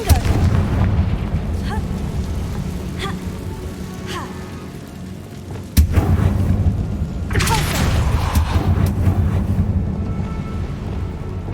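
A Confringo fire spell explodes in Hogwarts Legacy inside a tomb, giving a loud sharp blast with a rumbling burst and crackling debris, over a steady background drone of game ambience.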